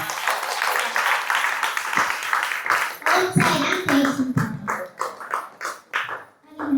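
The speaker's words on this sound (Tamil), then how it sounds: "கைத்தட்டி ஆரவாரம் பண்ணுவோமா?" Audience in a devotional gathering claps and cheers together, a dense, steady burst of applause that thins into scattered claps toward the end, with voices mixed in.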